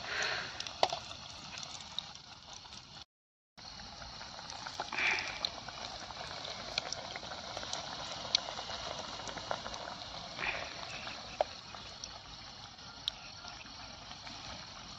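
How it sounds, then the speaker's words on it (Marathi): Cabbage bhaji frying in hot oil in a kadhai, giving a steady close bubbling hiss with brief gaps and small pops throughout. "असं मस्त तळायचा कार्यक्रम चाललाय भाज्यांचा."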